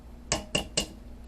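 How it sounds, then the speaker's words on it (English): Three sharp taps of an egg cracked against a bowl's rim while making gluten-free paleo brownie batter, evenly spaced and close, in a quiet kitchen. "So I'm going to start out by getting 1 egg in here."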